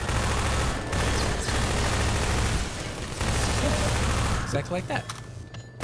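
Dense, rapid gunfire in the video game Half-Life, with volleys of shots close and loud. The firing stops briefly near the end as a voice speaks over it.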